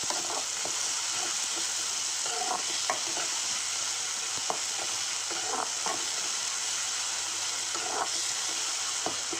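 Two chopped medium tomatoes sauté and sizzle in a pan for Tamil-style fish curry, with a steady frying hiss and repeated scraping stirs of the spoon against the pan, close and alone.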